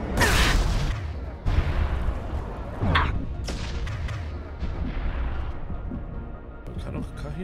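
Loud bursts of gunfire and heavy booms in the video game Mass Effect 2 crash repeatedly over dense background noise, with several sharp blasts standing out through the clip.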